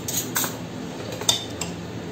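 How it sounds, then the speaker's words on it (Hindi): A spoon clinks a few times against a bowl while spices are worked into raw chicken, light and close in a quiet kitchen. "अब इन सारे इंग्रेडिएंट्स को इस तरह से मिक्स किया।"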